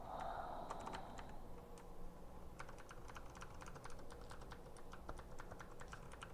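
Crisp computer keyboard typing during a Hollow Knight play session: dense, irregular key clicks close to the mic, mostly after the first two seconds, over a steady bed of game sound with a brief tone early on.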